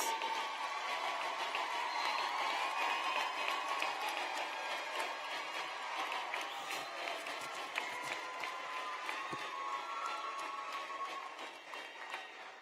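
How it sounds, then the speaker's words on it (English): Graduates at a Baltimore Polytechnic Institute ceremony give their families a long round of applause, a dense, distant wash of clapping from a large crowd that fades toward the end. "give your families a round of applause for being supportive to you for the last 4 years"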